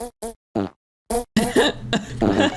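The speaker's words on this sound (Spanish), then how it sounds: "¿Echar pedos cada vez que escribes?" Series of loud, close fart sound effects from an Opera GX browser mod, several short bursts followed by longer, ragged blasts in quick succession.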